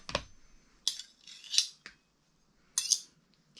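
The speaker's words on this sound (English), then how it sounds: "Okay, and then I mix it all up." Deviled egg yolk filling being mixed with mustard and mayonnaise in a bowl: a few close, sharp scrapes and clinks of a utensil, separated by short pauses, with no talking.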